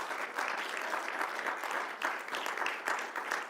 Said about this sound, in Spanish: Debíamos estar aplaudiendo,